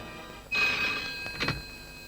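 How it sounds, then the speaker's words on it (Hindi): Telephone ringing after a call is placed: a single electronic ring tone starts abruptly after a short silence and holds briefly, then a fainter second burst follows, close and clear with no speech. "शिवानी, रतन ढोलकिया को फोन लगाओ।"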